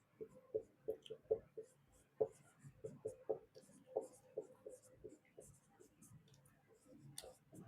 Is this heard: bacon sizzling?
no